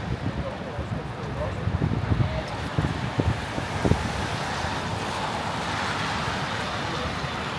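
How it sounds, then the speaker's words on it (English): Strong wind gusts buffet the microphone during a heavy snowstorm on a Midtown Manhattan street, a steady broadband roar with faint traffic beneath and a few louder bursts, with no speech over it. "The wind is really coming right at us."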